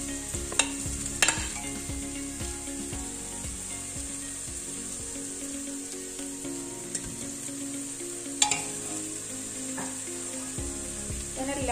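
Chicken pieces going into a pot for chicken majboos, cooked in a pressure cooker, give a steady sizzle with scraping and stirring over it and a few sharp knocks against the pot. No one speaks.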